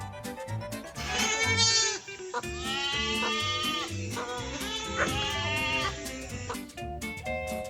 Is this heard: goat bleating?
yes